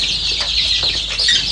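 Several free-range village chickens in a coop cluck softly and continuously, close by, with overlapping short calls over a steady high chirping background.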